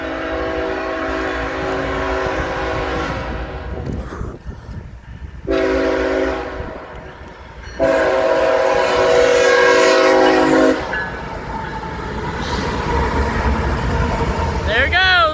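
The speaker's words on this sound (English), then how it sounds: "Wow, we're catching a train this way." Freight train rolling past a crossing on River Road in Chapel Hill, Tennessee, its loud sustained horn blasts sounding in long chords over the rumble of passing cars, with a person talking nearby between blasts.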